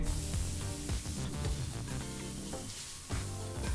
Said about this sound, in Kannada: ಒಗ್ಗರಣೆಯಲ್ಲಿ ಪದಾರ್ಥನೆಲ್ಲ ಒಂದು ನಿಮಿಷ ಚೆನ್ನಾಗಿ ಫ್ರೈ ಮಾಡಾಯಿತು ನಂತರ ಮೊದಲೇ ಮಿಕ್ಸಿ ಜಾರ್ಲಿ ತರಕಾರಿಗೆ ರುಬ್ಬಿದಂಥ ಮಸಾಲ ಪೇಸ್ಟನ್ನು ಹಾಕಿ